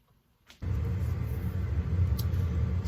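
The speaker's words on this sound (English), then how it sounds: "that's the noise of my furnace in the background." A steady low rumble starts abruptly and continues evenly, a deep mechanical drone like a furnace blower running nearby with no talking.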